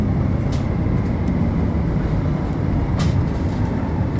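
A Montréal Métro train carries riders late on a Saturday night, a loud, steady rumble and rush of the moving car with faint squeaks and no voices.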